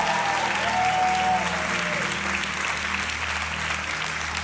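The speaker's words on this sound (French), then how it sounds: "Est-ce qu'on peut faire un tonnerre d'applaudissements, s'il vous plaît?" Thunderous audience applause at a Christmas show, dense steady clapping from a crowd that swells briefly then holds, with a faint musical tone fading underneath at the start.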